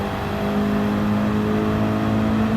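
BMW M6 GT3 race car accelerating at Watkins Glen in Gran Turismo 7, a steady loud engine drone with a strong low hum held through the clip, no talking.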